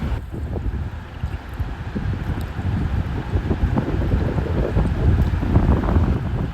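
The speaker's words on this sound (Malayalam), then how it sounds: "നല്ല നല്ല കാറ്റടിക്കുന്നുണ്ട്" Strong wind gusts across open backwater in Kuttanad during a fishing outing. The wind buffets the microphone in a continuous, rough roar that rises and falls, with no speech.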